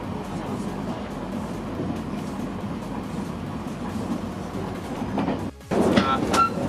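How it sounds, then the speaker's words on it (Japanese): Inside the Mahoroba limited express train as it climbs over the Ikoma mountain section, a low, steady rumble of wheels and running gear continues throughout, dropping away briefly near the end. "この王子を過ぎると列車は山越えの区間へ突入、生駒山を越えて列車は大阪府の方面へ入っていきます。"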